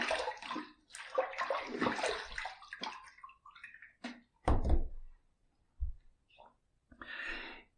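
A Hurricane safety razor is rinsed under running tap water, heard as short bursts of splashing flow between quieter gaps, with some vocal sounds mixed in.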